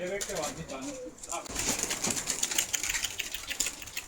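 Pigeons or doves coo and flutter on a hilltop, faint but close, with brief wing flaps and low coos over quiet outdoor air and soft background voices.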